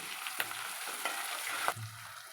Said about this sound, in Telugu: ఇందులోనే ఒక రెబ్బ కరివేపాకు చిడికడంత పసుపు అల్లం వెల్లుల్లి పేస్టు వేసి బాగా కలుపుకోవాలి